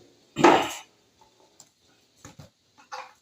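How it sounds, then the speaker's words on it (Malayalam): Small onions (shallots) being pounded in a kitchen, with one loud knock followed by a few fainter taps and a double thud close by. "ചെറിയ ഉള്ളി നന്നായി കുത്തിയെടുക്കാൻ ഓക്കെ ഇതുപോലെ നന്നായിട്ട്"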